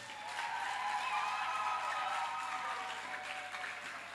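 A church congregation applauds together, a dense, steady wash of clapping that holds for about four seconds with no pause and no voices above it.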